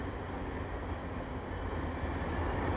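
A CPKC freight train passes beneath the Dorval ramp in Montreal, producing a steady low rumble and broadband rolling roar that holds constant, heard from nearby with no talking.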